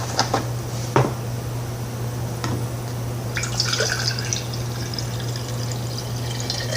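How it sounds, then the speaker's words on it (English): Water poured into a jar holding measured maca root powder, heard as a few sharp drips and splashes early on, then a faint, steady trickle over low background hum with no talking. "And then you put some water in there."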